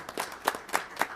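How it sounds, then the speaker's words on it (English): Audience applause at a council meeting, a short burst of several separate claps spaced roughly a quarter second apart, moderately faint in a quiet room. "You may applaud"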